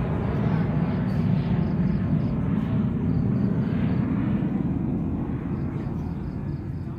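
An airplane flies near Tho Xuan airport, a steady, loud broadband engine rumble that holds constant for several seconds with no pauses.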